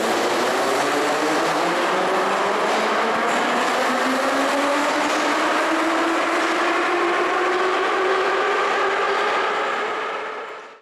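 Moscow metro EZh-3 train passing during a parade of trains, a loud, steady roar of wheels and motors with rising whine, continuous throughout and fading only at the very end.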